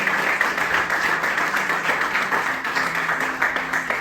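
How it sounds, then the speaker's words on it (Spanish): A church congregation applauds its pastors during a service: dense, steady clapping from a large crowd that fills the whole stretch at an even, strong level. "denle un aplauso fuerte a sus pastores"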